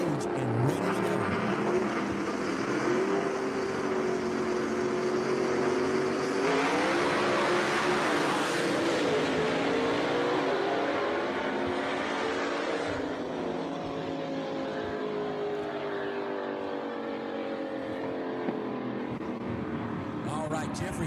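Gasser-class drag racing cars at a Jackson, Tennessee dragway, engines roaring loudly and continuously with rising and falling revs as they stage and launch, a commentator talking over the noise throughout.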